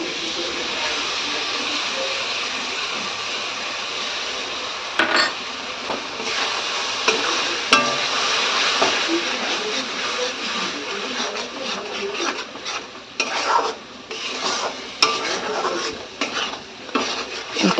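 Thick spice paste stirred into frying masala in a pan, a steady loud sizzle under repeated scraping and clinking of a spoon against the pan, the stirring growing choppier and more irregular toward the end.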